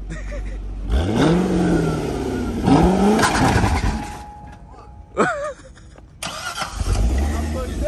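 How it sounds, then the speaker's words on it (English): A manual LS3-powered C6 Corvette revs hard for a burnout, with loud rising engine sweeps, a brief drop between bursts and another climbing rev near the end, while people shout and talk excitedly nearby. "hey, do a burnout first"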